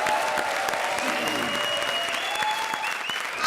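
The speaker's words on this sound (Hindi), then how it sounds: "जोरदार तालियां चाय के लिए।" A studio audience at a comedy show claps loudly and continuously, dense applause that holds steady throughout with a faint tonal background.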